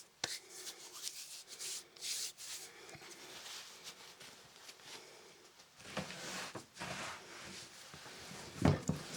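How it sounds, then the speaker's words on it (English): Hands rubbed together to clear bread dough off into flour, soft, irregular dry scraping and brushing strokes, faint and close, with a few louder swipes near the end. "You rub your hands off, and that goes into the flour because your hands were clean."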